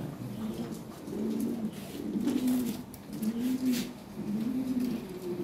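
Lahore pigeons on a breeding farm coo in slow, repeated rolling phrases close by, several calls rising and falling in a steady rhythm over a hissy background, with no talk.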